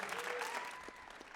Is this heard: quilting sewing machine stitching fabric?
no